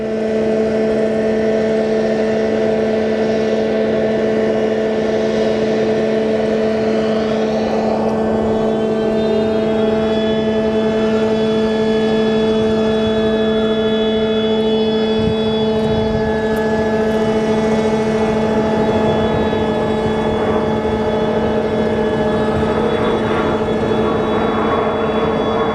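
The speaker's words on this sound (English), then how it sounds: "Oh wow, they started the plane." A Southwest airliner's engine runs on the airport ramp at Sky Harbor, a loud continuous whine with strong steady tones and a roaring rumble beneath, holding even for the whole stretch with no voices.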